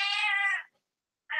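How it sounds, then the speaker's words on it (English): Indoor cat giving one clear drawn-out meow, a short pause, then the start of a second meow, close and alone. "She's going to come in here to meow."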